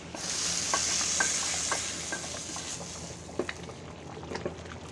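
Spices sizzle loudly in hot oil for a kadhi pakora tempering, a bright, crackling hiss that gradually settles, with a few sharp pops and spatters near the end.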